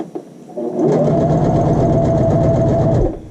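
Sewing machine running a long basting stitch on a child's shirt sleeve, starting up and then whirring at a steady, rapid mechanical rhythm for a couple of seconds before stopping, close and loud.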